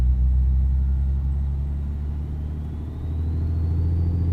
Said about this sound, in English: Just hear that whine of a turbo.